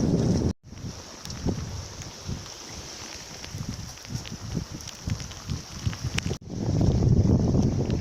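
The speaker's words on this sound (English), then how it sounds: "We're sailing! 14 knots of wind, 15 knots of wind." Strong wind roars across the microphone aboard a sailboat in a Norwegian fjord in heavy rain, a continuous rushing buffet with gusty surges, cutting out briefly near the start and swelling louder at the end.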